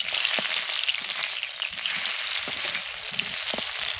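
Raw mango pieces fry in a little oil with panch phoron, a continuous soft sizzle with occasional spits and stirring taps, close by and without talk.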